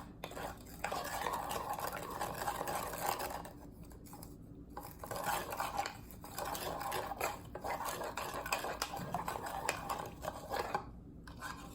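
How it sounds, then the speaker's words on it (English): Biscuit topping mixture with fresh parsley stirred in a bowl, a close scraping and clinking of a utensil against the dish in steady repeated strokes with brief pauses, quiet and without talk. "and then I'm going to mix together"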